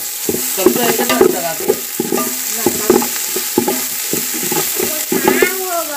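A spoon scrapes and stirs crab masala with ginger paste in a hot pan, Malvani style. The close, rhythmic strokes come at a steady pace over a soft, continuous sizzle.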